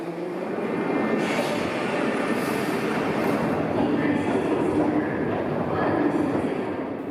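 A Russian metro train rumbles along steadily, a dense low roar with faint hissing and rattling, fairly quiet and continuous throughout.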